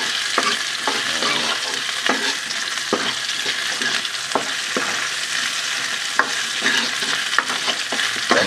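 Onion, ginger and garlic sauté in a hot pan, a steady close sizzle broken by repeated scraping stirs of a spoon against the metal, with no voices.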